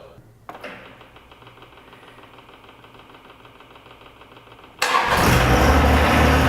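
A tractor engine on a winter day cranks with a rapid, rhythmic starter chatter for about four seconds, then catches and bursts into a loud, steady running roar close by.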